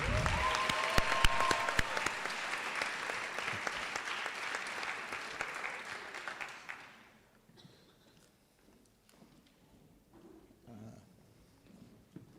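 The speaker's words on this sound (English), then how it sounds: "Give them a round of applause." A crowd claps steadily and loudly for several seconds at a high school senior awards ceremony, then the applause fades out, leaving quiet room noise with a few scattered sounds.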